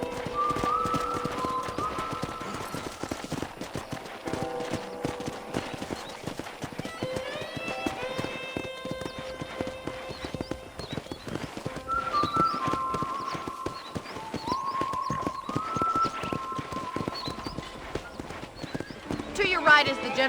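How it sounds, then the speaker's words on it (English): Horse hooves clip-clopping in a steady walking rhythm while riding around a ranch in the video game Red Dead Redemption, with a whinny and speech heard over the hoofbeats. "let's see if you can still ride a horse"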